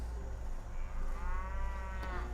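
Cattle lowing in the Stronghold HD strategy game, a single drawn-out moo heard clearly over a steady background hum.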